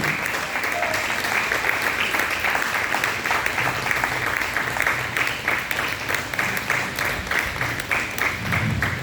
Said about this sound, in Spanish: Den un aplauso al Señor, iglesia, por su misericordia.